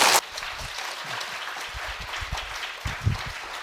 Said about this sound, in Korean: 목사님 나오실 때 우리 환영하는 마음으로 큰 박수로 환영하겠습니다.